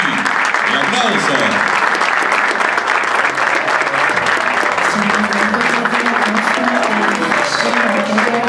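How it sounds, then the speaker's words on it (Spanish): Stadium crowd at a football club's official kit presentation applauding the players, loud sustained clapping and cheering from many people, with a voice talking over the applause. "¡Un aplauso!"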